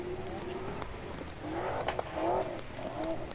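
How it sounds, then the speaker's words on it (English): A drift car's engine warms up in the distance at a Superdrift round, its revs rising and falling in faint tonal sweeps over a low ambient rumble, with brief tire-like squeals and no talk. "I can hear Brad from 5Ks away warming up the car"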